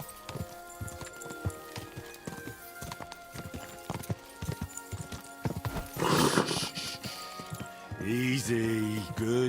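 A horse walks on a path in the medieval game Kingdom Come: Deliverance II, hooves clopping in an uneven steady rhythm, followed by a louder rustle and a clear neigh near the end.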